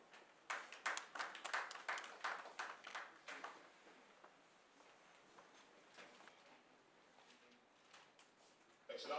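Audience applause welcoming an ECOWAS delegation led by Goodluck Jonathan at a meeting with Mali's prime minister, quiet and distant, with sharp clapping bursts early that fade into a softer patter.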